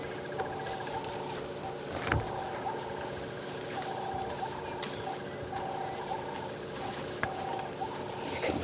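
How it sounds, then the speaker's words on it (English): Scattered bird calls chirp faintly in an open outdoor setting on a morning safari drive at Djuma Game Reserve, with occasional soft thumps and a low background hum. "hear all the birds around us"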